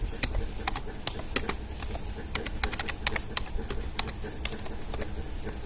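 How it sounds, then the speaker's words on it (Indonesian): Quick, uneven clicks of fingers typing on a computer keyboard, entering a terminal command, close and fairly quiet against a low background hum, with no voices. "Kita ketikkan."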